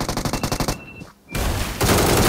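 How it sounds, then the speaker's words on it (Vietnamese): Video game gunfire: a rapid string of close, evenly spaced shots, a brief lull, then a dense, loud continuous barrage of automatic fire. "bên này có tiếng súng"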